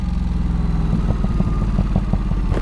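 A Ducati Supersport 950 engine runs at low revs on the overrun, its exhaust giving a series of quick irregular pops and crackles over a steady rumble, close and loud.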